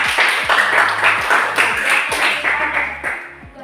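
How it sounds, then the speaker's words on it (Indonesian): A classroom of students applauds a presenting group, with brisk, uneven clapping that is loud and close, running steadily for several seconds and easing slightly at the end. "Beri tepuk tangan dulu"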